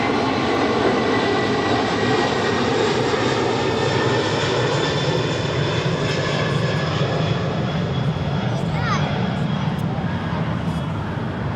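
A Boeing 747 rolls for takeoff on runway 25 left at Los Angeles International Airport, its engines a loud, steady roar filling the whole stretch, with radio-style talk faintly mixed in.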